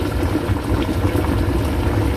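Water for cooking fish at a steady rolling boil in a pot, a continuous bubbling and churning close by with no pauses.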